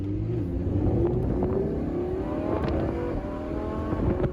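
A 2024 Tesla Model 3 Performance electric car accelerating hard, with a steady rising motor whine over a continuous low road rumble, heard close from inside the car.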